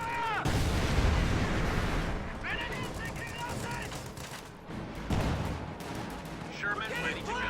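Anti-tank strafing runs in a video game strafe the ground in bursts of heavy gunfire and impacts, with a commentator talking over much of the barrage.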